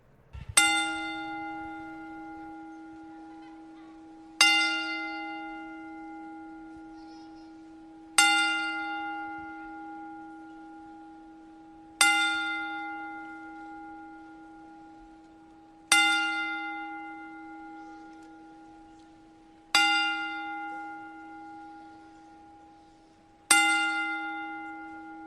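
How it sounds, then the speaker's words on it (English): A single bell tolls seven times at slow, even intervals for a wrestling ten-bell salute, each strike ringing clearly and decaying into a long hum before the next, with no talking. "we'd like to pay tribute to Dory Funk Jr. with a 10-bell salute"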